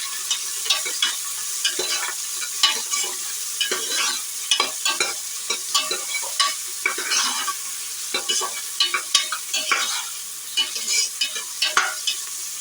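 Onions and green chillies sauté in oil with spices in a one-pot pan for tomato rice, giving a steady sizzle under frequent quick scraping stirs of a spoon, close-up and with no voices.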